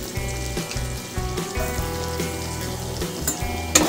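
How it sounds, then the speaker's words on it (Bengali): A large chopped onion goes into oil left from frying prawns and sizzles loudly nearby. Stirring thuds and a low, pulsing hum sound underneath, and a sharp clink comes near the end. "চিংড়ি মাছ ভাজা তেলেই আমি একটা বড় সাইজের পেঁয়াজ কুচি দিয়ে দিচ্ছি।"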